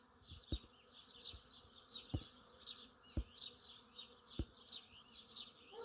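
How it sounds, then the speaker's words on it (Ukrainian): A honey bee swarm that has flown into a house buzzes continuously in a steady high drone, with several sharp low thumps scattered through; no voices are heard. "Отак бджоли сідають де-небудь"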